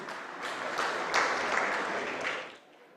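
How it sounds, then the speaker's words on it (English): An audience applauds the Malaysian team at the opening ceremony of a squash world championship, steady dense clapping that swells briefly and then fades away near the end. "Can we give them a big round of applause, please?"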